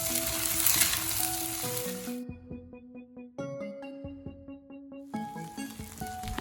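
Cooked, cooled basmati rice sizzles and crackles in a hot pan as it is stir-fried for garlic egg fried rice, loud frying hiss broken by a quieter stretch, while music plays underneath.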